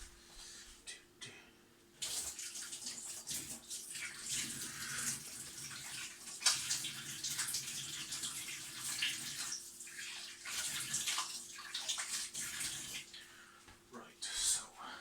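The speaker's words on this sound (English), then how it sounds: "Wash my hands." A kitchen tap runs steadily while hands are washed, with the water's hiss rising and splashing for several seconds as a soft voice murmurs now and then.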